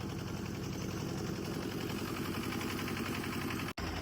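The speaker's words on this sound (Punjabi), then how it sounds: "ਜਿਹੜਾ ਬੋਟ ਦਾ ਇੰਜਨ ਕਾਫੀ ਆਵਾਜ਼ ਕਰਦਾ ਹਨਾ" A boat engine runs on Gobind Sagar lake near the Bhakra Dam, making a loud, steady, close-up drone with a fast rhythmic chug, cut by a short dropout near the end.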